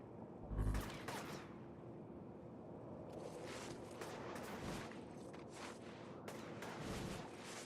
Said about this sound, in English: I hear gunshots, but I don't see...